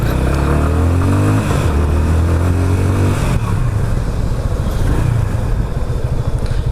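On a test ride, a Yamaha Fazer 25's engine note rises loudly through a couple of hard pulls, dips between them, then settles into a rough, buzzing drone mixed with strong wind rush.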